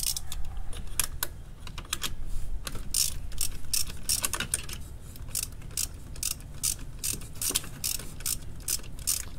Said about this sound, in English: Make sure you bring along your deep socket and your ratchet for this 13.